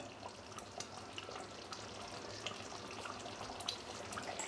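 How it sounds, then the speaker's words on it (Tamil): A thickening kanum mixture bubbles and sizzles in oil in a pan, a soft, continuous crackle with small pops scattered throughout. The sound is fairly faint, and no one speaks. "கொதிச்சு எண்ணெய் தனியாக பிரிஞ்சு வரும் மேலே"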